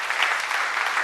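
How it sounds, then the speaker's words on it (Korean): A church audience claps hard for about a second, a dense, steady patter of many hands with no break and no voices over it. "우리 청년들을 위해서 한번 응원의 박수."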